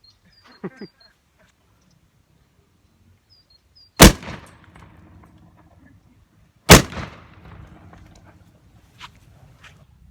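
A 12 gauge shotgun loaded with black powder ammunition fires two loud, sharp shots a few seconds apart outdoors, each with a rumbling tail, after faint birdsong and small rustles.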